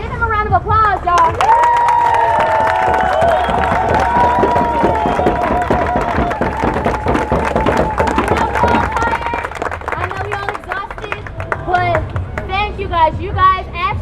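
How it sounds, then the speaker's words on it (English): Crowd applause and cheering at a Black Lives Matter and equality protest in Seattle, dense clapping mixed with shouts and whoops throughout, with voices talking over the noise. "give them a round of applause, y'all."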